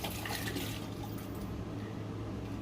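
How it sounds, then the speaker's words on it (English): Water being poured out of a carnivorous plant's pot into a basin, a continuous splashing gush that thins toward the end, close by with no talk. "we're gonna discard the water"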